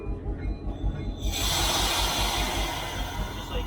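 A diesel freight locomotive on the Reading Blue Mountain & Northern eases into motion, heard from the cab: a low, pulsing engine throb under a hiss that swells loud partway through and stays steady.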